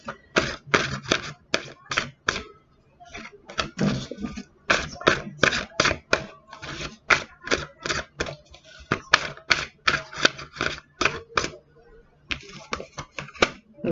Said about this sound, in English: I'll actually pull the cards now